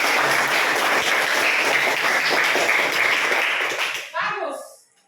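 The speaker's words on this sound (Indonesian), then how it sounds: "Berikan aplaus." Classroom applause from a group of students, a dense steady clapping that holds for about four seconds, then trails off into a few scattered claps and quiet voices.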